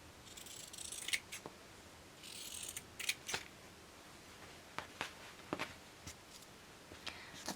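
Scissors snip an old t-shirt into strips about an inch wide, making quiet, close crisp cuts in short irregular runs with small pauses between them.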